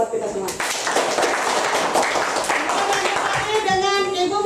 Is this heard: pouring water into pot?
no